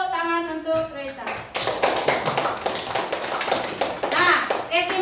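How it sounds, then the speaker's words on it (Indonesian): Schoolchildren in a classroom clapping hands together, a run of sharp, rapid claps following a woman's spoken lead-in, with some children's voices mixed in. "kita beri tepuk tangan untuk Reza"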